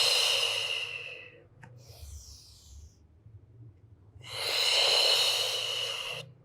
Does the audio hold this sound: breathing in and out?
yes